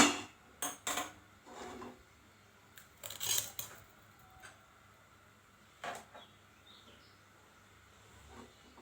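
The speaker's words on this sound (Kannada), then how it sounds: "ಸ್ಟವ್ ಹಚ್ಚೋಣ." A gas stove in a home kitchen is lit for cooking bitter gourd gravy, with a few sharp, close clicks spread irregularly across an otherwise quiet room.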